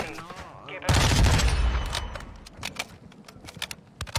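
Rapid video game gunfire bursts out loudly at about one second, then continues as scattered sharp shots and rattling fire while players talk over the action.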